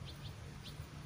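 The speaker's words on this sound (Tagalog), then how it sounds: "Pati mga ibon dito." Faint high chirps from birds used to people near a fish pond at Cyberport, Hong Kong, a few brief tweets over a steady low hum.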